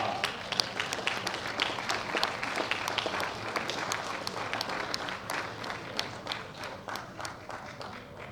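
Sustained applause from an audience at a women's world bench press championship, greeting a Russian silver medalist with dense, steady clapping that runs the whole stretch at a fairly even level.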